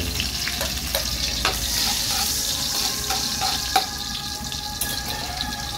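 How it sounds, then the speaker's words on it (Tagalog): Garlic sautéing in oil previously used for frying squid, giving a steady close sizzle with a few light clicks of stirring throughout, with no voices. "gigisa na natin yung bawang natin"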